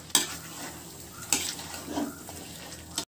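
A spoon stirs Bengali-style chicken masala with garam masala in a frying pan, giving soft sizzling and a few sharp scraping strokes against the pan, close and alone.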